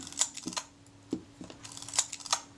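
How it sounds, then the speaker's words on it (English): Kodak Retina Reflex IV film camera, being checked after a jammed shutter, giving a quick run of sharp mechanical clicks and snaps from the shutter release and film advance lever, close and crisp, with no talking. "press the shutter release and the film advance moves smoothly"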